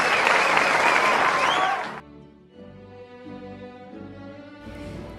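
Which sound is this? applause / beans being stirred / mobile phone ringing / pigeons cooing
applause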